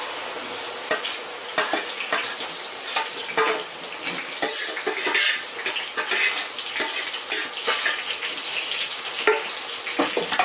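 Onions sizzling in ghee and oil in a pot, three onions' worth frying steadily with dense crackling and occasional scrapes of stirring, no voices.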